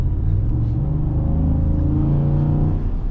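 A 2026 Ford F-150 Tremor V8 truck's engine revs, a loud, deep, steady rumble with strong low harmonic growl sustained throughout, heard close.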